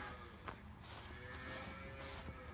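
Holstein Friesian calves moo on a dairy farm, one faint low call standing out against steady farmyard background noise.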